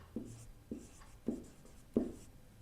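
Four distinct chalk or pen strokes tap and scrape on a board at a steady pace, each a short close scratch, with quiet room tone between and no talk.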